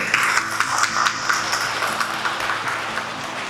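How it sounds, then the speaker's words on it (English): A crowd applauding steadily, a dense wash of clapping hands that holds throughout without fading. "Please give a big round of applause"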